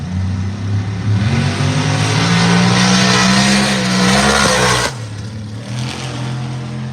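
A Ford Fox Body Mustang makes a drag-racing run down the track, its engine roaring loudly and steadily climbing in pitch before the sound abruptly drops away near the end.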